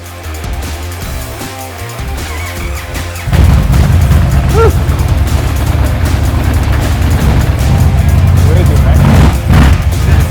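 A custom Indian Chief motorcycle engine starts as a low rumble, then roars loudly and continuously from about three seconds onward with rough, throbbing revving, and voices talk faintly underneath.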